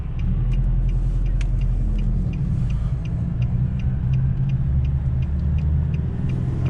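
A diesel car drives under load with a continuous deep engine rumble and road noise, loud and steady from close by, shifting slightly in pitch midway.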